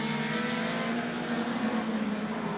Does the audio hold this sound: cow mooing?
no